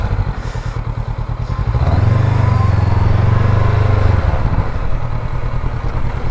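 Honda NX500 motorcycle on a test ride, its engine a steady close drone that swells louder and deeper for a couple of seconds mid-ride before easing back, with road and wind noise around it.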